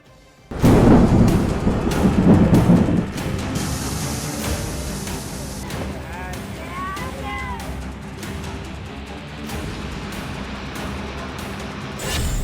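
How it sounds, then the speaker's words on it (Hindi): Heavy rain and rumbling thunder during floods in Bihar, a loud roaring burst at the start settling into dense, steady rushing noise with scattered crackles and distant rumbles. "बारिश और बाढ़ का विकराल रूप"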